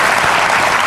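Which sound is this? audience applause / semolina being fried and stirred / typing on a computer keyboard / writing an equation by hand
audience applause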